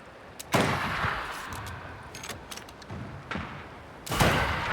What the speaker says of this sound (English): That's gunfire in the background.